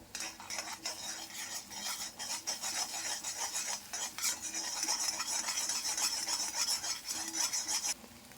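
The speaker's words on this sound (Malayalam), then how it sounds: "ഈ മുട്ട കൊത്തി പൊരിക്കുക." An egg scrambled and fried in a hot pan, with a utensil scraping and stirring rhythmically against the pan surface in quick repeated strokes, close and fairly quiet, over a faint sizzle.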